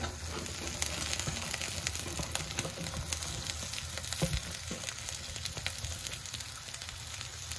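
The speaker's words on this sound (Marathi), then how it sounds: "तर आपण चिरून घेतलेली भेंडी यामध्ये ऍड करूया।" Chopped okra fries in a pan after chilli and garlic, giving a continuous close sizzle with crackles and a few stirring clicks, no voices.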